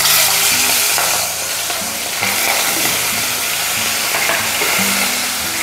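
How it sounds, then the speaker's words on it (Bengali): Hilsa fish head frying in hot mustard oil, giving a steady, loud, dense sizzle close by with faint stirring or scraping in the pan and no talking. "মাথাটাকে ভালো মতোই ভাজবো"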